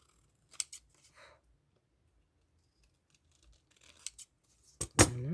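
Scissors snip through paper scraps to round off their edges during card making, a few quick close cuts with pauses between, ending in a louder burst of snipping.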